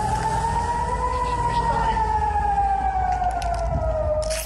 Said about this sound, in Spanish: Sirenas de alerta que corresponden a la ciudad de Jerusalén